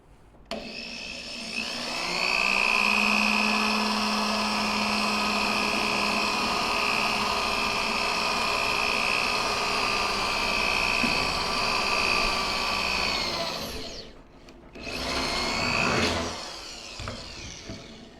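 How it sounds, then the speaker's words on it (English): A power drill whines steadily at close range for over ten seconds while drilling a rivet hole, cuts off briefly, then spins up again in a shorter burst. "We're going to drill a hole since we want to have 4 rivets in this side."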